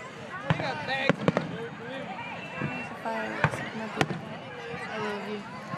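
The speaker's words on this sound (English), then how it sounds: "This is our first fireworks, you know?" Fireworks at Ocean Beach: several sharp distant bangs and pops spaced irregularly across the clip, under close conversation and crowd chatter.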